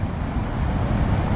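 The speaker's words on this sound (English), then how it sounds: "Look at those big waves." Big ocean waves roll at an estuary mouth, a loud, steady broadband roar of surf mixed with wind buffeting the microphone, no voices.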